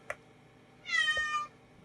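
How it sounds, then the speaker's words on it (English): A domestic cat meows once in the background, a drawn-out, tonal call lasting about half a second after a brief soft tap, otherwise quiet indoors with no talk. "that's my cat in the background"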